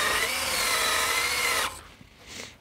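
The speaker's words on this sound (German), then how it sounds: "kann ich mir die Bohrmaschine zunutze machen." An electric drill runs with a steady high whine for over a second, then cuts off abruptly, leaving quiet room noise and a faint brief whir.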